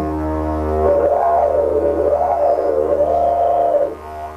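Didgeridoo drone with a wavering, rising-and-falling overtone that imitates the call of the brolga, an Australian dancing bird; close, steady and alone.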